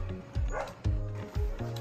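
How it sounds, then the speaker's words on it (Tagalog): Dogs bark repeatedly at a moderate distance in Barangay Iruhin Central, Tagaytay City, three or four short woofs spaced about half a second apart. "Marami lang aso."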